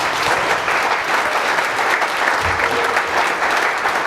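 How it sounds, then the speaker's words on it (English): An audience applauds steadily at an innovation talk in Israel, a dense, even wash of clapping sustained from start to finish with no pauses. "Big round of applause for us."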